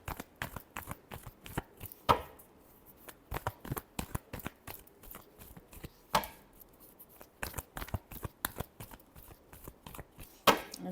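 Tarot cards are shuffled by hand in a long series of sharp, quick riffles and slaps, with a few louder bursts among them, close and alone.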